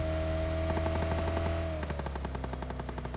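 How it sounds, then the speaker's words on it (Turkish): Rapid bursts of automatic gunfire from a battle in PUBG Mobile crackle over a steady background hum. The shots come in quick repeated volleys with no one talking. "Çatışma sesleri bana acayip yerlerden geliyor bu arada."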